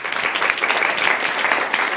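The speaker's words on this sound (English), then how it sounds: "they deserve a good round of applause because they worked really hard" Loud, dense applause from a crowd at a school district governing board meeting, many hands clapping steadily and close for the whole short stretch.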